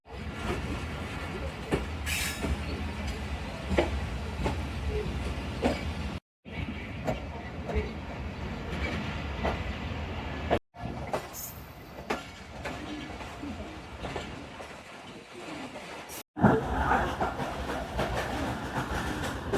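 The Tezgam Express passenger train rolls along the rails after departing Raiwind Junction toward Lahore, giving a continuous rumbling clatter with hiss and a few brief dropouts, heard from on board.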